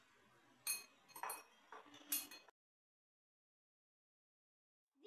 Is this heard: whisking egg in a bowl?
yes